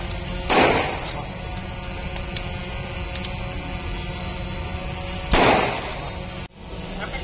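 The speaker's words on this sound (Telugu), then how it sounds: "ఇన్ఛార్జి గారు ఉత్తర్వుల వరకు ఫైర్ జరపడం మొదలుపెట్టినారు" Two sharp gunshots ring out during a Central Reserve Police Force mock drill in Jammalamadugu, Kadapa, several seconds apart and loud against steady background hum, with no talk.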